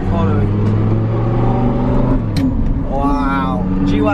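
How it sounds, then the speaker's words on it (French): Mercedes G-Wagon driving past on a street in Monaco, its engine a steady close rumble, with people talking excitedly over it. "Wow. G-Wagon."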